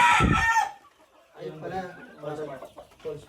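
A gamecock crows once loudly and close by, then people talk quietly in the background.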